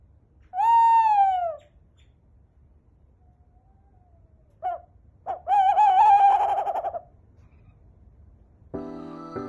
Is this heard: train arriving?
no